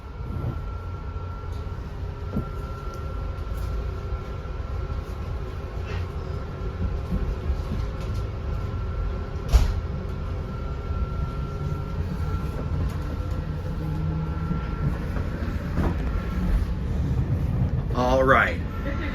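A Long Island Rail Road Main Line passenger train rolls along the tracks with a steady rumble and rattling wheels, a brief clank midway, and an announcement-like voice over the din.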